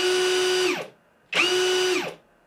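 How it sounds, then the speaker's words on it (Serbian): A Parkside PSBSAP 20-Li C3 cordless drill whines at speed in first gear, then brakes to a quick stop; it happens twice in succession, loud and close, with no talk. "Da pogledamo i kako radi kočnica u prvoj brzini,"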